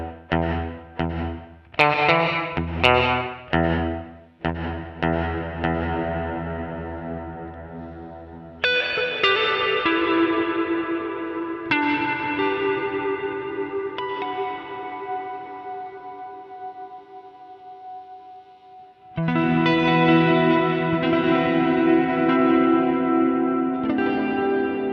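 Electric guitar played through a NUX MG-300 multi-effects unit with reverb engaged: strummed chords and single notes ring out with long, washy decaying tails, loud and close, no voices.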